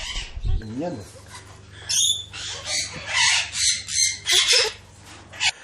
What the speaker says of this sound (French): 2 petits oiseaux exotiques